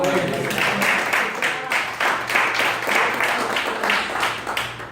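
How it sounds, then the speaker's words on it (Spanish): A church congregation claps in a strong, regular rhythm, about two beats per second, many hands together and fairly loud, with a few voices underneath. "Vamos a dar un aplauso, Señor."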